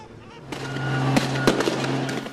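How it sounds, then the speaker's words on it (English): Fireworks bang during a nighttime clash between Turkish riot police and anti-government protesters in Istanbul's Taksim Square, with two sharp loud cracks over a steady roar of crowd noise and commotion. "Rocks, fireworks, and tear gas flying through the air as protesters clashed with police overnight"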